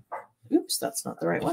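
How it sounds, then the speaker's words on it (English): Dogs bark in the background in a home craft room, a few short yips and barks mixed in while someone talks over them. "I apologize for the dogs barking."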